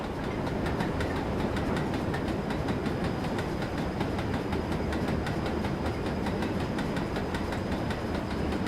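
A Collett goods train crosses a bridge in a train simulator game, a steady loud rumble with rapid, even rail clatter running the whole time.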